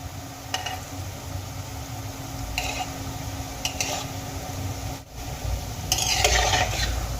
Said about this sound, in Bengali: সবগুলো আমি একসঙ্গে দেব না অল্প অল্প করে ভেজে নেব